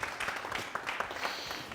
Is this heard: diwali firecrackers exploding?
no